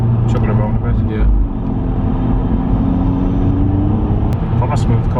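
A VW Scirocco drives on a road while the driver uses the gears for engine braking, producing a steady, loud engine rumble and road roar throughout, with people talking over it inside the car.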